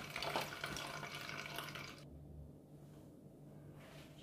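Ginger, pineapple, carrot and mint juice strained through a sieve: a watery pouring and trickling for about two seconds, then quieter drips and faint liquid sounds.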